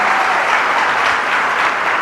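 Applause from a church congregation, a dense, even roar of many clapping hands that holds steady and fairly loud for the whole moment.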